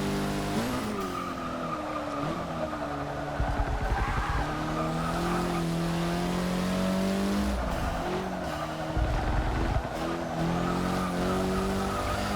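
A 2004 Mitsubishi Lancer Evo VIII MR in Forza 6 revs hard through the gears, the engine note climbing to redline and dropping at each shift, loud and steady with tire squeal and brief gearchange dips.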